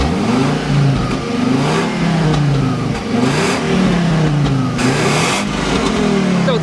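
Fiat Bravo HGT with its five-cylinder engine revs repeatedly, rising and falling in loud, close blips, with no one talking over it.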